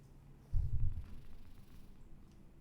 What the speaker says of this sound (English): You should be able to hear Kote purr, she's so loud right now.